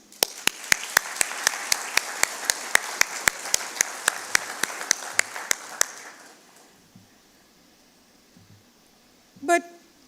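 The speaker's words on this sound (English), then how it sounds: "we want to again give you a big applause" Applause at a graduation ceremony for graduates, with crisp regularly spaced claps over a bed of clapping for about six seconds, then fading to quiet, followed by a brief, loud tonal blast.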